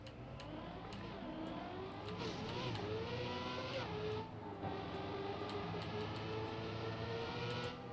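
Racing cars in the Trackmania video game drone steadily with continuous engine tones that shift in pitch, loud and sustained without talk.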